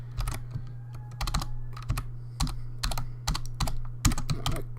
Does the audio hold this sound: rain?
no